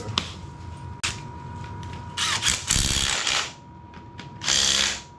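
Ratchet clicking while tightening bolts during an LS engine swap into a Jeep Commander, several short bursts of metallic ratcheting with clanks in between, close and moderately loud in a garage.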